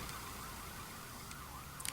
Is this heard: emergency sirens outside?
yes